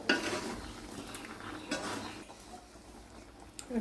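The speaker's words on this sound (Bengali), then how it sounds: "এবারে যতক্ষণ চিনি না গলে ততক্ষণই নাড়তে থাকবো" Sugar is stirred into mango jelly pickle in a pan, giving a steady scraping and clinking of a utensil against the pan that runs continuously with small bursts and occasional louder knocks.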